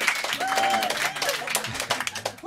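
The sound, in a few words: audience clapping in radio studio session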